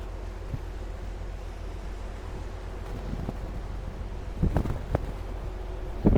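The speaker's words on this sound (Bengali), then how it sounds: "সমুদ্রের অবস্থা খুব খারাপ কারণ বাতাস আছে পেছন থেকে" Steady, roaring wind noise buffets the microphone throughout on the open deck of a cargo ship in rough seas, with a few louder gusts and thumps near the end; no voices.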